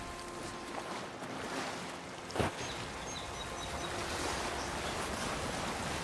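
A waterfall in the video game Avowed gives a steady, broad rushing roar of falling water that carries on without a break, with one soft thump partway through and no voices.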